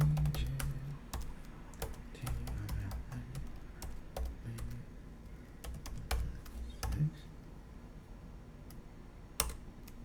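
Rapid clicks of fingers on a computer keyboard come in bursts with short pauses, close and fairly quiet, ending with a couple of sharper keystrokes.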